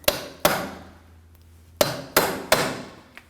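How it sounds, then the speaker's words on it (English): A hammer strikes a punch to free a stuck axle from the hub on a 2003-2006 Subaru Baja, landing five sharp metallic blows in an uneven rhythm, each ringing out briefly up close. "We're going to want to free that up using a punch and a hammer."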